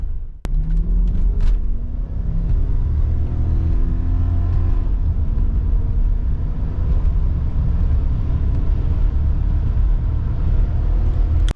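A Lexus LS400 sedan on a test drive, engine recently repaired for an intermittent misfire, pulls forward with a rising rumble of acceleration and road noise, heard from inside at steady loudness.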